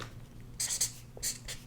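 Pen writing on paper in a quiet room, a few short soft scratchy strokes close to the microphone, faint.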